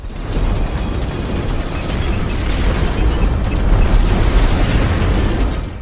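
Swarm missiles exploding in the space combat game Strike Suit Zero, a loud, continuous wash of overlapping blasts and rumbling bursts with no pauses across the whole stretch.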